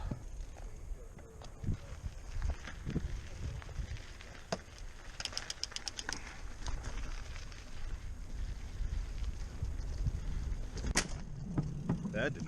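A mountain bike shifts across too many gears at once, its chain and derailleur making a quick burst of sharp metallic clicks midway and another click later, set against steady outdoor background noise.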